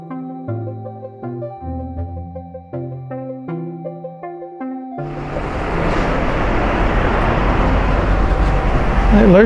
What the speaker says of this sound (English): It started absolutely chucking it down.